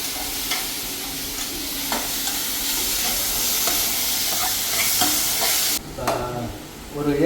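Onions sauté in a pan at home as a Tamil chicken dish is cooked, a loud close sizzle and hiss with scraping stirs throughout that drops away abruptly near the end, leaving quieter clinks.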